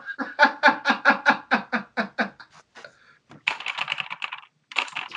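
A voice rapidly mimics stuttering keyboard typing with a quick run of even, clipped taps, then a pause and a second, looser burst of tapping sounds.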